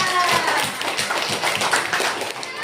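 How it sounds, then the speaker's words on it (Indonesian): Schoolchildren in a third-grade classroom clap for a student group, a brisk patter of many small hands rising and dipping across the stretch, fairly close. "Tepuk tangan untuk kelompok 3."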